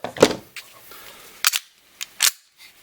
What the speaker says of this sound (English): So there's your blowback.